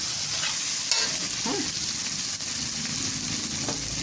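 Small fresh squid frying and being stirred in a pan, a steady close sizzle with occasional scraping stirs and clinks, no talking.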